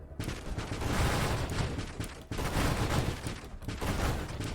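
Ship weapons in the space shooter Nova Drift fire in a relentless, dense barrage of rapid shots and side shots, loud and continuous with only a brief dip partway through.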